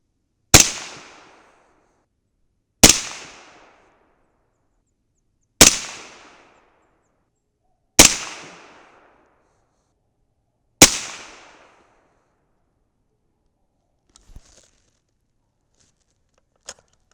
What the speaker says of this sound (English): Okay, 5 more shots.